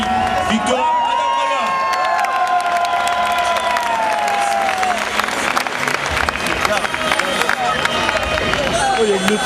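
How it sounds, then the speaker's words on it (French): A crowd at an indoor motorcycle trial event in Nice cheers and applauds loudly, with whoops, shouts and a rising whistle-like tone over dense clapping, while an announcer speaks through a PA over it. "Allez, avec lui, on les encourage, on les applaudit."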